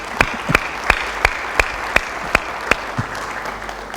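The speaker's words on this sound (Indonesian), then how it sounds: "Kita beri sorak-sorai." Rhythmic group clapping from a church worship audience, about ten sharp, evenly spaced claps, loud and close, with little cheering evident.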